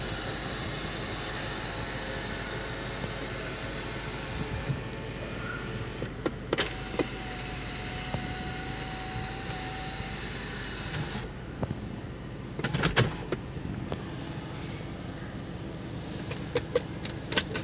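A 2014 Toyota Harrier's electric sunroof runs with a quiet motor whir under a faint hiss, broken by a few soft clicks and thumps as the panel moves.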